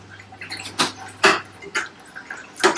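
Water is poured into a pot of sambar, giving a few splashy gushes and drips at uneven intervals, close by and fairly clear against a quiet kitchen.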